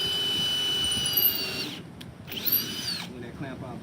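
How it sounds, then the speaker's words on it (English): A power drill drives screws through pilot holes into a wooden raised garden bed, its whine running loud and steady before cutting out briefly, then returning in a shorter burst, with faint background noise throughout. "Throwing these pilot holes in and throwing my last few couple of screws in place."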